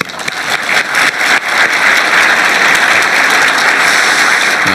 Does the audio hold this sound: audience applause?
yes